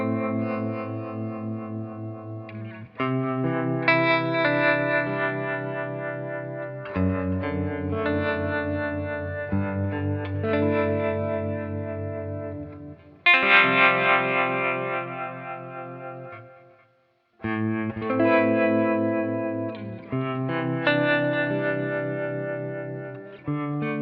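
Electric guitar played through Ableton's Amp simulator with a clean, slightly chorused tone: sustained chords and arpeggiated phrases ring out in several bursts, with a brief pause near the end and no talking.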